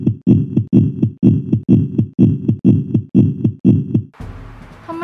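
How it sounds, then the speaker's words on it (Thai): Fast, evenly paced electronic heartbeat from a toy veterinary clinic play set, about ten loud thumping beats in steady rhythm, close and alone, followed by a brief burst of rustling noise at the end. "ทำไมเจ้าตุ๊บป่องถึงหัวใจเต้นแรงขนาดนี้ล่ะคะ"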